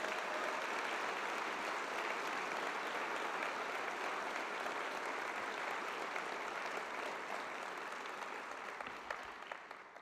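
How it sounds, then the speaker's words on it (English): A large crowd at a university convocation gives a long, sustained round of applause: thick, even clapping holds steady for about nine seconds, then fades out gradually at the end. "Let's give them all a big round of applause."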